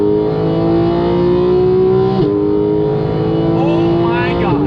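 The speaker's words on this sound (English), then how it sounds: "when you need to pass somebody, downshift and go" Porsche 991.2 GT3 engine held at steady revs, then a quick downshift blip around the midpoint and a rising surge of acceleration, loud and close from inside the cabin, with a voice talking over it.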